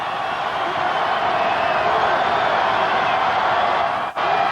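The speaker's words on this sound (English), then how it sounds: "the Redbird Arena crowd is on its feet," Basketball arena crowd at Redbird Arena during a late-game Bradley vs Illinois State college game, a sustained loud roar of cheering and noise filling the whole stretch, with a brief dip near the end.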